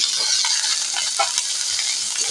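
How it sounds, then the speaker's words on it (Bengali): Steamed snails are stirred into onions frying in a pan, a continuous close sizzle with soft scraping stir strokes throughout. "পেঁয়াজের সঙ্গে দিয়ে একটু আমি নাড়তে থাকব"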